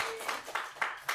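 Hands clap in a slow, steady rhythm of about four claps, modest in volume, to welcome a guest on a podcast.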